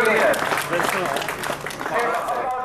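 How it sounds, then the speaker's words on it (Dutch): Applause from a crowd at a cycling race promotion, loud and sustained clapping with a voice talking over it. "Nou, geef je nog maar even applaus."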